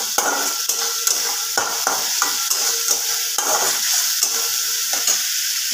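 Onions fry in a pan for chicken kosha, a steady close sizzle broken by repeated scraping stirs and light knocks of a spoon against the pan, with no talking.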